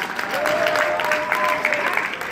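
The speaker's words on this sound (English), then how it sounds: "give those huge, amazing guests a huge round of applause" Crowd applause at an anime convention's closing ceremony, a continuous, fairly loud burst of clapping with a faint whistle-like tone running through it.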